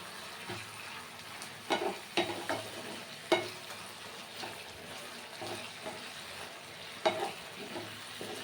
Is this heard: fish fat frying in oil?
yes